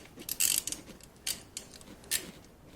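A ratchet wrench snugs the oil drain plug back into a Royal Enfield Continental GT / Interceptor 650 motorcycle, giving a few short, quiet bursts of clicking separated by pauses.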